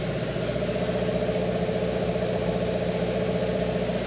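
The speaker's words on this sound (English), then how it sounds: "we can see we've got generator beneath me here" A diesel generator runs in the engine room of a Sunseeker Ocean 182 superyacht, with big cooling fans nearby, making a loud, steady mechanical drone that stays even throughout.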